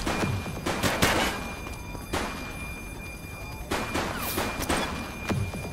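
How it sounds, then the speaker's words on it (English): Police shootout in The Precinct: sharp gunshots crack in irregular clusters, some in quick pairs, with distant-sounding reports and faint radio-style voices in the background. "Shots fired!"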